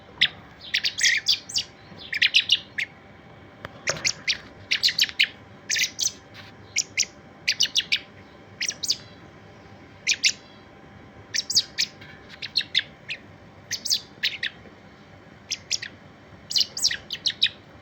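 Repeated bursts of high, thin chirping in quick clusters, steady throughout over a quiet background; blackbird chicks calling busily close by while being hand-fed, in Baghdad.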